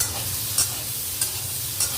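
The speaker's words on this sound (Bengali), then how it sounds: "এটা এবার একটু ভাজা একটু ভালো করে ভেজে নিতে হবে" Steady sizzling of food frying in a pan, with three brief scraping clinks of a utensil stirring at even intervals.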